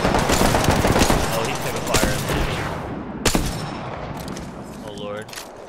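Rapid gunfire crackles in a burst of overlapping shots in the video game Apex Legends, then sharp single cracks follow. A whooshing ability sound comes near the end, and the firing is loud and close.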